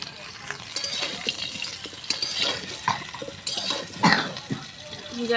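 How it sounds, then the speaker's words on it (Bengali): A utensil stirs raw mango pieces in a pan of ghee with panch phoron and dried red chillies for a sweet pickle, making scraping and clinking sounds against the pan over a faint sizzle. "এবার আমগুলো ভালো করে নাড়াচাড়া দিয়ে নেবে"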